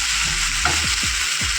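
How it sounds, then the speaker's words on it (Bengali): Okra frying in a pan gives a steady, close sizzle that continues throughout, with faint stirring sounds and no voices. "আগে ভালোভাবে একটুখানি ভেন্ডিগুলোকে ভাজা ভাজা করে নিতে হবে।"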